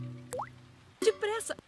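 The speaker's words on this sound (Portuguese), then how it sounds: "O papai está usando um balde para pegar os pingos." Cartoon water drips fall into a bucket during a rainy scene, a few bright plopping drips alongside short bits of animated character sound.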